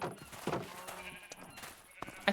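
Sheep bleat in the Minecraft video game, several short wavering bleats in a pen, moderately loud over a faint background of game sounds and light voice.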